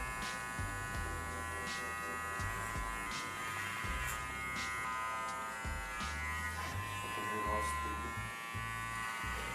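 Electric hair clippers buzz steadily close by while trimming hair over a comb during a low skin fade, with a person talking over the hum.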